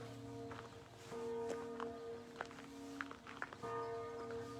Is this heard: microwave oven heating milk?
no